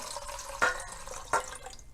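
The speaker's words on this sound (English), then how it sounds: "Yep, you want to pour it in very carefully." Water being poured carefully into a container while making half sour pickles gives a soft trickle with a couple of brief splashy bursts, close by and fairly quiet, with no talking.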